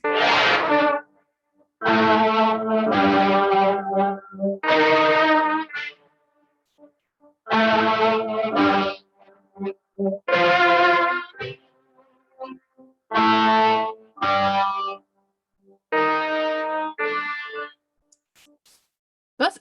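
Guitar played through an Eventide H9 pedal on its Time Warp reverb, loud close notes and chords in short separated phrases, each trailing off with a washy, warbling tail.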